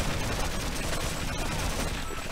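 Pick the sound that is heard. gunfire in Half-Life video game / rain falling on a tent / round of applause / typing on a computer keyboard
gunfire in Half-Life video game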